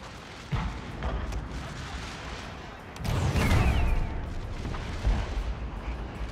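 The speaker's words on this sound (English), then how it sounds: "Our artillery here is opening up." Artillery fire in a Gettysburg battle video game, a few distant muffled booms followed by a heavier rumbling salvo with rolling echoes over constant battlefield noise.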